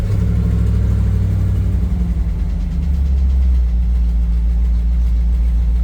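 A 1990 Ford F250 pickup engine idling on high idle to warm up, a steady low rumble with a strong, even hum that dips briefly midway and then settles again, loud and close with no voices.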